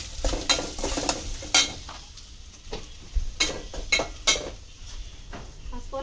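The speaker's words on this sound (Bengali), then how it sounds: "ইলিশ মাছ রান্না করবো মিষ্টি কুমড়া দিয়ে" Hilsa fish cooking with pumpkin in a pan: a utensil stirs and scrapes against the pan in repeated clinks and knocks over a soft background sizzle, close and fairly loud, with no talk.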